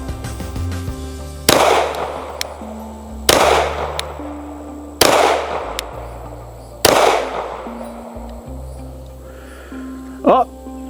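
Four loud pistol shots from steel case ammo crack out about two seconds apart, each with a sharp attack and a decaying echo, followed by a short metallic clack near the end and faint background hum.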